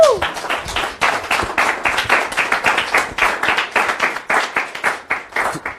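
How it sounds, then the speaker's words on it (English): A room full of people claps together in a sustained round of applause at a church training session, loud and steady with rapid overlapping hand claps rising and falling in pulses throughout. "Let's give the Lord a round of applause."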